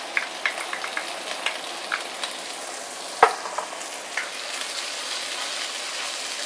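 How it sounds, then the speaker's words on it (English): Tomato sauce hits an oiled wok already holding chicken fat and sizzles steadily, with scattered light clinks and one sharp metallic tap from a utensil partway through; no one speaks. "we will put in the tomato sauce"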